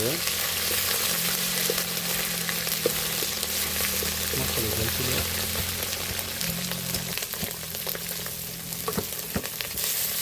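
Two medium-sized chopped onions frying in a pan, a dense steady sizzle like light rain that holds for about ten seconds, close and fairly loud, with a low faint hum beneath.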